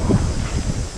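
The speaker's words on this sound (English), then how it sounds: "it's so windy that all the plants are blowing over" A strong northerly wind blusters and roars in buffeting gusts against the microphone outdoors, a continuous loud low rushing with no voices.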